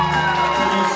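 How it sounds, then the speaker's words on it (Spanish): Crowd at a sapphire (45th) wedding anniversary party in a Queens banquet hall cheering and whooping, a dense, loud, continuous wash of voices and shouts. "¡Fuerte el aplauso"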